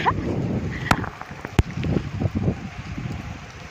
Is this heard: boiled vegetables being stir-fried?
no